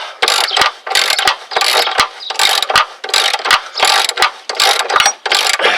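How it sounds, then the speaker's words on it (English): A 1/2 inch ratchet loosens a rusty sway bar end link nut on a Plymouth/Dodge Neon, loud close rapid clicking in repeated bursts of strokes with brief pauses between swings. "bigger ratchet here. This is a 1/2 inch."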